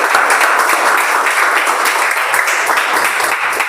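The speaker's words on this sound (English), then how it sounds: "Let's welcome Toastmaster Megha with a big round of applause." Big round of applause from a Toastmasters meeting audience welcoming Toastmaster Megha, steady dense clapping filling the room at a constant level throughout, with no one speaking.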